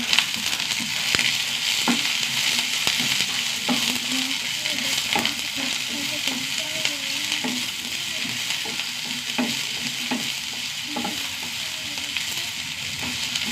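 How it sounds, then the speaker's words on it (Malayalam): Chopped onions and green chillies sauté in a pan with a loud, continuous sizzle and frequent stirring clatter from a utensil all the way through. "സവാള ഒന്ന് നന്നായി വഴന്ന് വരട്ടെ"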